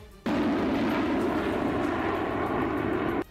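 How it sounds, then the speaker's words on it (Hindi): Russian Sukhoi Su-30 and Su-35 fighter jets taking off from their base one after another, a loud, steady roar of jet engines that holds at full strength for about three seconds and then cuts off abruptly. "रूस के सुखोई 30 और सुखोई 35 फाइटर जेट अपने बेस से एक के बाद एक उड़ान भरते नजर आए"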